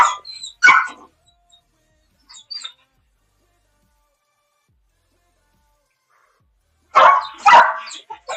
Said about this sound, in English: Sorry for all the barking.